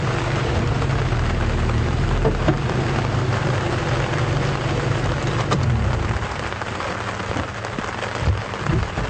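Heavy rain falls during a safari drive at Djuma Game Reserve, a dense, loud hiss of drops close by with a low rumble underneath that eases slightly toward the end.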